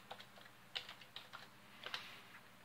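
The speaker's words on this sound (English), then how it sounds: "you're going to come down to CLI and you're going to type get low pass" Several quick keystrokes on a computer keyboard as a command is typed into a Betaflight CLI, soft and fairly close, in uneven clusters with brief pauses and no talk.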